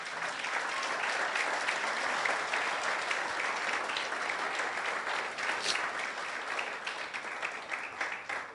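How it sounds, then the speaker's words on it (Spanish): A congregation at a church service applauds the Lord with sustained, dense clapping that stays loud and steady throughout, with a few individual claps standing out near the end. "Dele un aplauso al Señor."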